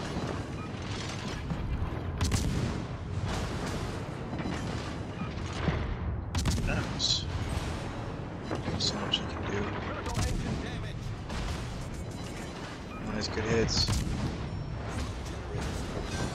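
Heavy naval ship guns boom and crack in World of Warships: Legends, a steady stream of salvos and impacts with a louder burst near the end, while a player talks over the battle.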